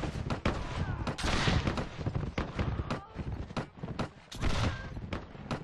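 Gunfire from muskets and a double-barreled gun in a Mount & Blade: With Fire and Sword battle, a rapid scattered series of sharp shots, some near and some distant, with a voice heard briefly.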